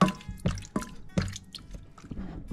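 Soft wet squishing and dripping as infused fruits are crushed to press out their juice, several short squelches in an irregular rhythm, close and fairly quiet.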